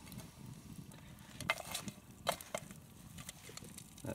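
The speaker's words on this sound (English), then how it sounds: "That pan cooking up." Bacon frying in a pan over a bed of coals outdoors, a soft steady crackle and sizzle with a few sharp clinks of metal utensils against the pan.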